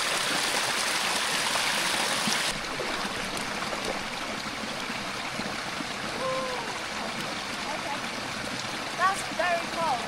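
A person wades into a cold stream at a camping spot. Water rushes and trickles steadily close by, with a few splashing movements, and a voice speaks near the end.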